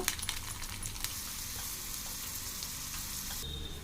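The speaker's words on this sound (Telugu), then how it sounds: "చూడండి తాళం బాగా వేగింది కదా" Seeds, dried chillies, curry leaves and garlic fry in hot oil for tempering, giving a close, bright crackle and sizzle with quick sputtering pops at the start, then a steady hiss.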